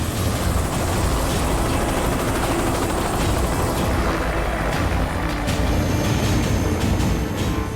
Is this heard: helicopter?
yes